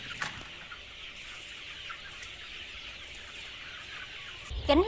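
Free-range chickens cluck on a farm, a steady flock chatter of clucks and calls at moderate distance, ending in a louder, closer burst of squawking.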